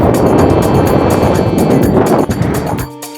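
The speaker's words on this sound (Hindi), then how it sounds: "और आज हवा भी बहुत तेज़ है, ख़तरनाक हवा चल रही है।" Strong desert wind roars continuously across the microphone during a quad bike ride in the Dubai dunes, a loud, dense buffeting rush that suddenly drops away near the end.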